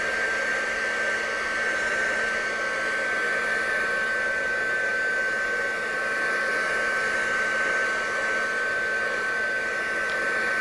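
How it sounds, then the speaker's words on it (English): A heat tool drying a marbled Christmas card blows with a loud, steady broadband whoosh and a constant whine for the whole stretch, with no talking. "I'm going to bring in heat tool."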